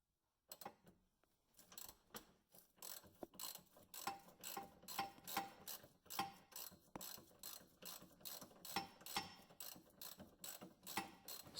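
A hand ratchet clicks in quick repeated strokes while loosening the torsion bar nut on the rear axle of a 2010 Mercury Mariner, crisp and close with short pauses between bursts and no speech.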